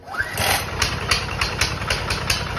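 A Coleman BT200X mini bike engine catches on a pull start and runs, sputtering with a fast, uneven putter close by, loud and rattly.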